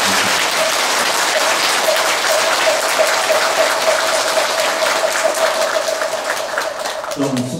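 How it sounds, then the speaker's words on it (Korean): A large audience at a Buddhist broadcasting lantern-lighting ceremony claps in sustained, dense applause that stays loud and steady throughout before tapering slightly at the end. "우리 직원들을 위해서 큰 격려의 박수 한번 부탁드립니다"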